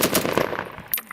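U.S. Marines clearing an insurgent stronghold fire a rapid burst of automatic gunfire in quick succession, loud and close, with a few scattered shots trailing off.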